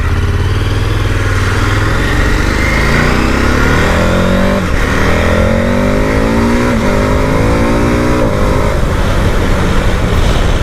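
A KTM 1290 Super Adventure S motorcycle under way, its engine loud and close throughout, revving up through rising gear sweeps with brief dips at each shift as it accelerates continuously.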